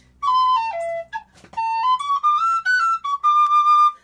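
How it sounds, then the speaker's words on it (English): A penny whistle, or tin whistle, plays a blues tune of clear, bright notes. Short phrases step and slide between pitches with brief gaps, and the instrument sounds close and alone. "So let's try it on the penny whistle."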